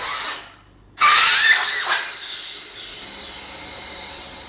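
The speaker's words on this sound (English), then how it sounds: "There goes the compressor in the garage that we can hear." An air compressor runs in a garage, a steady broadband mechanical whir and hiss that cuts in after a short gap and continues evenly, heard at moderate loudness with no speech.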